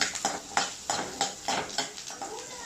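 Onions sautéing and being stirred in a pan for a Tamil drumstick-leaf chutney, with repeated scraping strokes of a spoon against the pan every half second over a soft sizzle, close and alone.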